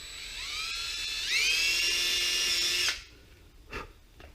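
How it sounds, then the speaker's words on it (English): A power drill whirs up, rises in pitch as it speeds, runs steadily for a couple of seconds while drilling a prop blade mount, then stops abruptly, followed by a faint clunk. "Now we drill."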